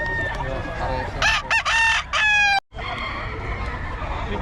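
A bull stag gamecock crows nearby, one loud broken cock-a-doodle-doo in several bursts, with faint voices and background noise before and after.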